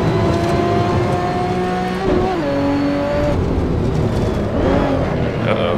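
A 1977 Broadspeed Jaguar XJ12C race car in Assetto Corsa, its engine loud and steady, wailing up and down through the revs as it brakes and accelerates around corners.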